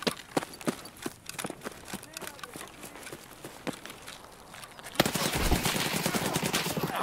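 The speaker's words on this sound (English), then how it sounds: "there's multiple scavs shooting at me right now" Scavs open fire in the video game Escape from Tarkov, with sharp, rapid shots repeating throughout and then a heavy, continuous roar of gunfire taking over the final seconds.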